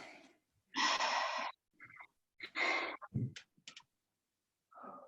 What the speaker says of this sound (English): some microphones are a little bit more sensitive than others. So you can hear every breath of some people